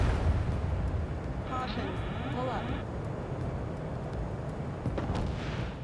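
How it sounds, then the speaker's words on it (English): A missile launches in the Ace Combat 7: Skies Unknown flight game, a whooshing burst with a warbling lock-on tone laid over a constant loud roar of jet engine noise. "H2, missile launch."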